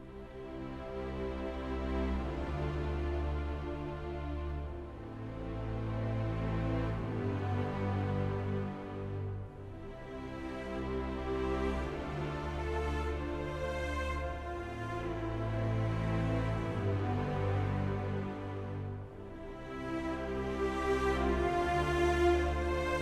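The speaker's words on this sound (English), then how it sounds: "And then we have a chord progression that sounds like this." Instrument playing a chord progression that uses a chord substitution moving to G, with sustained harmonic chords changing in a slow, steady rhythm, moderately loud and alone with no talk.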